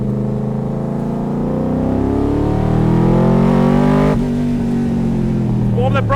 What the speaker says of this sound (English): Let's get out and give this Corvette a bit of a workout.